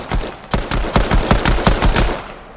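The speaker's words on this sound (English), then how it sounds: "Now with the pistol." Pistol fire in a shooting video game: about nine sharp, loud shots in quick, fairly even succession over two and a half seconds, with no talking.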